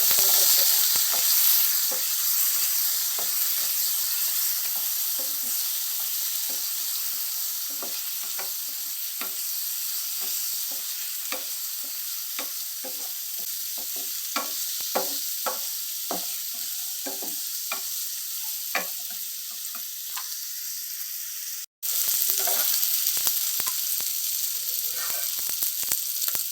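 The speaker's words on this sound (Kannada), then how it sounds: "ಈಗ ನಾವು ನೆಕ್ಸ್ಟ್ ಈಗ ಕಟ್ ಮಾಡಿ ಇಟ್ಕೊಂಡಿರೋ ಈರುಳ್ಳಿ ಮತ್ತು ಟೊಮೆಟೊ ಹಾಕಿ ಚೆನ್ನಾಗಿ ಫ್ರೈ ಮಾಡ್ಕೊಳ್ಬೇಕು." Chopped onion and tomato fry in a pan for chicken fry, a steady sizzle running throughout. Spoon strokes scrape and clack in an irregular rhythm, with a brief dropout near the end before the sizzle resumes.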